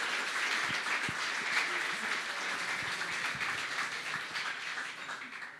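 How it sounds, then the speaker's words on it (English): Audience applause at a hackathon closing ceremony, a steady wash of many hands clapping for the full stretch, loud and close, fading slightly toward the end. "Round of applause for Pablo"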